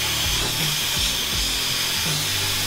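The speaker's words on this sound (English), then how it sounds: "I'm just gonna start cutting. Then we're gonna hack this bumper apart." A power tool cuts through the bars of a custom front bumper on an old Ford tow truck, a loud continuous grinding rasp close by that holds steady for the whole stretch, with no talk over it.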